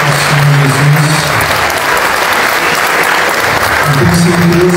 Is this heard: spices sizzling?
no